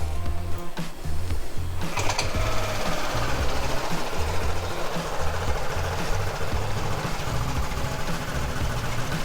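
A 2022 Aprilia SR GT 200 Sport scooter engine idles nearby with a steady, fast mechanical chatter and a low pulsing throb, continuous and fairly loud throughout.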